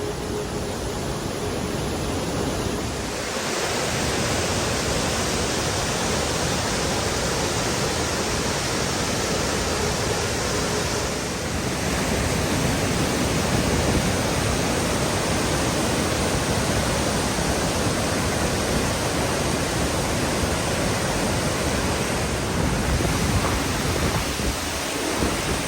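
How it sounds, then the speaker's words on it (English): A steady, roaring wash of falling water from a waterfall near Isafjordur, Iceland fills the whole stretch, loud and constant, with no voices. "And now I'm going to show you the waterfall."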